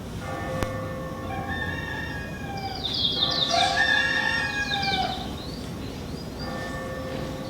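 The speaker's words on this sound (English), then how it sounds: "The second cock hath crowed" A rooster crows with a long, rising cock-a-doodle-doo, moderately close, over a low murmuring background while a bell rings steadily in sustained tones.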